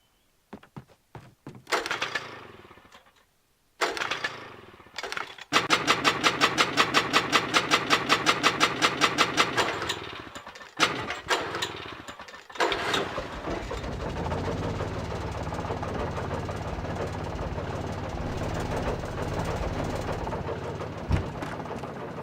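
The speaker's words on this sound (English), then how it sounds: "An old generator had been connected to the power cable." Old generator in Alan Wake sputters through a few uneven starting thunks, then chugs in a fast, rapid mechanical pulse before settling into a steady, dense running drone, moderately loud and without talk.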